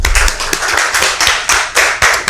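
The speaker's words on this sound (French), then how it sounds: "entrer dans ces plateaux avec les applaudissements de tous" A television studio audience applauds to welcome a guest onto the set, with loud, close clapping in uneven surging bursts.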